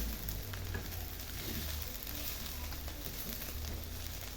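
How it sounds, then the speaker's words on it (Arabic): Garlic frying in a pan for a chicken and vegetable paella, being stirred: a steady, soft, even sizzle with faint scraping, continuing alone at low volume throughout. "غادي نحرك شويه على ما غير تشحر لي شويه داك الثومه"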